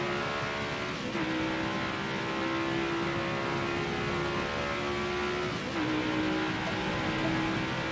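Race car engines in the NASCAR Heat 5 video game drone loudly and continuously, with a steady high engine tone that briefly dips and climbs again with gear changes, and the hum of other cars beneath.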